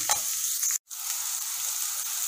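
Onions, garlic, green chillies and curry leaves sizzle steadily in a hot pan with a bright hissing crackle, briefly cut off by a short gap before the frying resumes.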